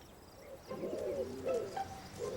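A pigeon or dove coos softly outdoors in a littered spot, with a few low rolling calls over quiet background.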